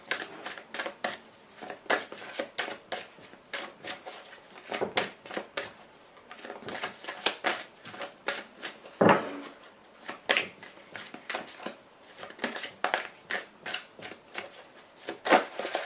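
Playing cards shuffled by hand for a tarot-style reading: steady, close riffles and slaps repeating throughout, with a few sharper snaps as cards are drawn, no talking over them.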